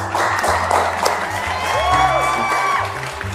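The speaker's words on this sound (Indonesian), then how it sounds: "Kasih tepuk tangan." Studio audience at an Indonesian business talk show about goat farmers applauds and cheers, a steady dense wash of clapping with whoops riding over it, lasting the whole stretch.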